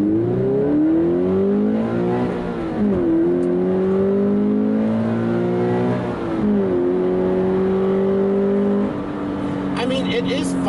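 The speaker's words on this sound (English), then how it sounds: "I'd like getting that six-cylinder engine, the sound, the power, and everything," A Toyota GR Supra's six-cylinder engine revs and climbs through the gears, its steady harmonic drone rising and dipping with shifts, loud and close throughout with no talking over it.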